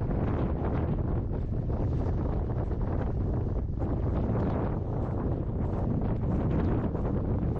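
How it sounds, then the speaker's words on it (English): Strong, steady wind roars and buffets the microphone without a break on the summit of Peak 4440 in the San Gabriel Mountains, California, a loud broadband rush with no voices. "Yes, it was windy up there."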